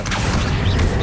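An Accio summoning spell is cast in Hogwarts Legacy, a brief loud magical surge with a low booming rumble and mechanical whoosh that fills the short moment.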